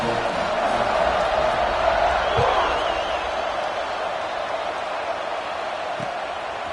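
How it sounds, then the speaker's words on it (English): A virtual stadium crowd in the Madden 26 football video game roars steadily at kickoff, a dense, loud wash of cheering with a couple of faint thumps, continuous throughout. "They're set to kick it off, and this crowd now ready to get behind them."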